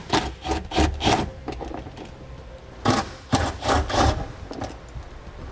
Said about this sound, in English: Now we'll remove the 10mm bolt that holds these hooks in place.